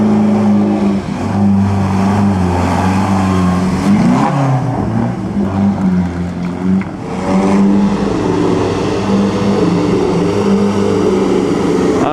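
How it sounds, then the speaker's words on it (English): A vintage Maserati four-cylinder race car at the Mille Miglia road race, its engine droning loud and steady for the whole stretch with rising and falling revs as it passes close by. "Maserati 4-cylinder."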